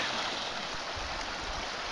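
A creek on the Ozark Trail's Middle Fork section rushes over rocks near a log crossing. It makes a steady, close, hissing babble with no pauses.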